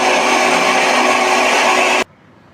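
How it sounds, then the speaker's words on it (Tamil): A loud mixer grinder coarsely grinding spices for idli podi whirs steadily for about two seconds, then cuts off abruptly into near silence. "ஒரு மிக்ஸி ஜாரில் போட்டு கொரப்பாக அரைச்சி எடுத்துக்கலாம்"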